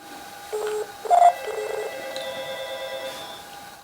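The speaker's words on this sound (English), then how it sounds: "that is the home phone now ringing" A home landline phone gives electronic ring tones in short bursts, moderately loud and close, followed by a faint lingering tone.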